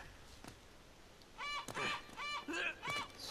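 A bird in the video game Uncharted: Drake's Fortune gives a run of four loud nasal honks in quick succession after a faint earlier squawk, close and alone, with no talk.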